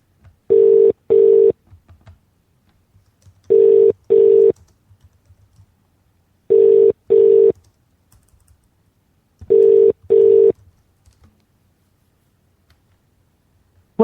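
Four paired bursts of touch-tone dialing beeps, evenly spaced over quiet line hiss, as someone phones the Ecuadorian embassy; no one speaks.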